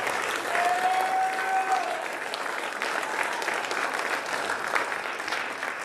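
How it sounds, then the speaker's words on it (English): Steady applause from a banquet audience at a Bellingham Bayhawks awards dinner, honoring the coaching staff; dense, sustained clapping throughout with a brief whistle early on. "One more round of applause for the best coaching staff I've ever worked with."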